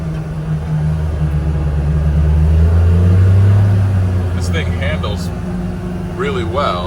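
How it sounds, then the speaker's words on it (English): Steady engine drone and road rumble inside the cab of a Polaris Ranger 1500 side-by-side rolling down a driveway at around 30 mph and 3,000 RPM, loud and continuous, with a voice breaking in near the end. "This is the cabin noise riding down the driveway."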